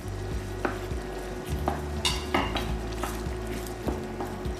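Mushrooms with masala paste being sautéed in a pan, a spoon scraping and knocking against the pan in irregular strokes over a continuous low sizzle and steady hum, close and clear with no voices.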